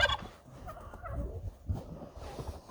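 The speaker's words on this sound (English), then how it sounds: "All right, turkeys, go away." Turkeys gobbling near a pallet-built weighing chute, a few faint rough gobbling bursts scattered through quiet farmyard background, close but soft.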